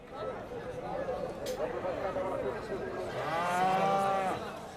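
Bulls and other cattle lowing at a busy Berber livestock market in Morocco, a low murmur of crowd chatter throughout, with one long, loud, drawn-out moo rising near the end.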